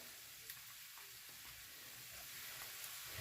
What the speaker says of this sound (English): You could hear the chicken sizzling in the background.